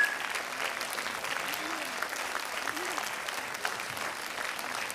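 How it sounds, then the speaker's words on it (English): An audience at a stage performance claps in sustained, fairly distant applause that rolls on evenly, with a voice faintly heard over it. "a big round of applause for them"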